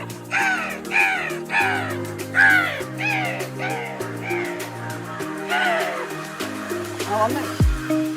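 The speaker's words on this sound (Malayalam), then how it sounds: "ഈ ബാണാസുരയിലെ എല്ലാ കാക്കി ഇവിടെ വന്ന് പോയിട്ടുണ്ട്" Crows caw repeatedly and loudly nearby in a steady series of harsh calls, with a low engine-like hum underneath, at Banasura in Wayanad, Kerala.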